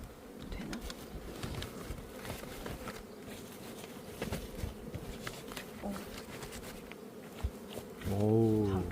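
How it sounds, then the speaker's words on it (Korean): Honeybees at a small, weak colony hum and buzz steadily around an opened hive during an inspection, close and continuous, with occasional clicks and knocks of frames and a brief, louder tonal drone near the end. "지금 우리가 이렇게 벌을 살펴보는 거를 내검이라고 해요"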